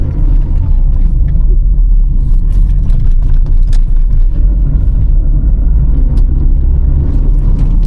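A car drives off after a service and spark plug change, its engine a loud, steady low rumble heard from inside the cabin, with faint clicks and rattles over it.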